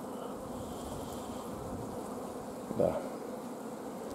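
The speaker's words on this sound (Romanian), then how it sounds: "aici chiar găsim și albinuțul care ecluzionează acum" Honey bees hum steadily over open brood frames during a hive inspection, a dense, continuous buzz close to the listener, with one brief spoken word from a beekeeper near the end.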